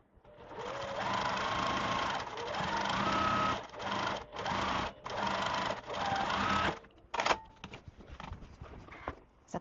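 A sewing machine stitches quilt rows for a 2024 sampler quilt top, running in long loud bursts with brief stops between them, then shorter starts and stops near the end, with no talking.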